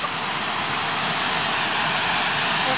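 A waterfall on the Timberline Loop trail pours in a steady, dense roar with no breaks, loud and close and filling the whole clip.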